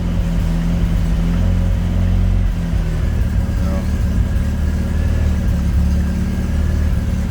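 A 1975 MG Midget engine idles steadily just after a cold start, a loud, close, continuous low rumble with a slight waver in pitch and no one speaking over it.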